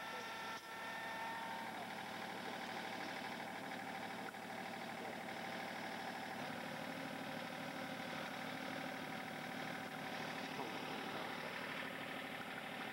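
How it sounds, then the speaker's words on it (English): A truck engine runs steadily while the truck is driven on a summer day in Maine, a continuous low rumbling drone with faint rattling throughout and no clear speech. "Driving the truck."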